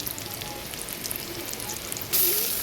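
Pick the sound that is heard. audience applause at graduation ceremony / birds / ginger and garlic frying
ginger and garlic frying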